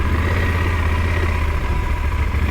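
A Yamaha Super Tenere motorcycle engine running in touring mode, a steady, loud, close drone with a low rumbling pulse that holds even throughout, no speech.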